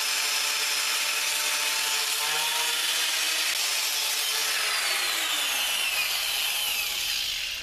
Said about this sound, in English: Taking this round nose scraper around there for a quick pass